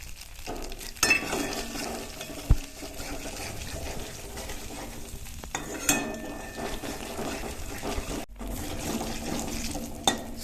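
Steady crackling sizzle of whole spices frying in hot oil, with occasional clinks of a utensil stirring the pan.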